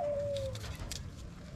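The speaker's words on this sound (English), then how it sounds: "your baby's singing. The bird." A pigeon or dove gives a soft cooing call outdoors, a single low drawn-out note heard nearby and fairly faint, with no talking.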